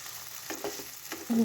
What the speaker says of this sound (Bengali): এবারে কিছুক্ষণ নেড়ে চেড়ে ভাজতে হবে।